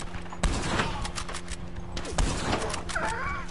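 Carcano bolt-action rifle in the online western video game Red Dead Online fires two sharp reports about two seconds apart, set against steady game ambience and faint background effects, with no talking.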